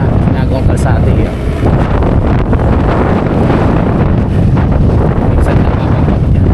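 Strong outdoor wind buffets the microphone in a loud, continuous roar with gusty surges, while people talk underneath it.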